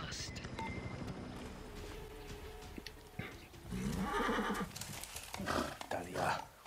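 In the Far Cry 6 video game, a horse painted like a zebra neighs loudly with a long whinny and snorts, following earlier hoof clip-clops. Game dialogue and sounds run underneath.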